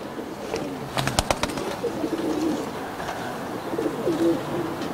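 Highflyer pigeons coo softly and steadily nearby, with a brief flurry of sharp flapping or clattering bursts early on over a constant outdoor hum.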